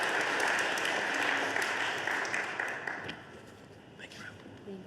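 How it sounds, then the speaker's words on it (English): An audience bursts into steady hand clapping that gradually fades toward the end, a dense wash of applause heard from within the crowd. "give yourselves another hand clap"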